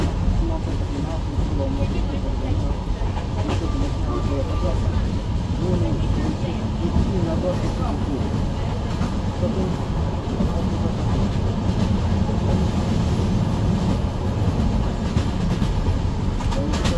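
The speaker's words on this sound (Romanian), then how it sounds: "Urcăm în tren." Passenger train ride near Oradea, heard from inside the carriage: a steady loud rumble with rhythmic clickety-clack of wheels over rail joints throughout, with people talking over it.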